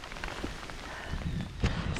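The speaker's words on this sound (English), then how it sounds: "Oh, it's really chucking it down now." Heavy rain pours down on a bikepacking trip along a rail trail, a steady dense patter on the surface under a tree with a few sharper drop hits, close and without talk.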